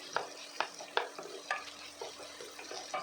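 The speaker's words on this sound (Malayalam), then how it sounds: "ഒരു 200 ഗ്രാം ചെറിയുള്ളി ചെറുതായി അരിഞ്ഞത് കൂടെ ചേർത്ത് നന്നായി ഒന്ന് വഴറ്റിയെടുക്കാം." About 200 g of chopped shallots sauté with fennel seeds in a pan for a pepper chicken curry. A soft, steady sizzle sits under a regular rhythm of spoon scrapes and stirring knocks, close and fairly quiet.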